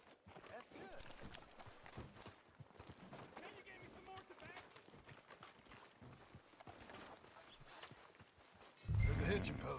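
Hooves clop in a rhythmic walk as a horse moves along a street in Red Dead Redemption 2, fairly quiet under game ambience, ending in a louder thud.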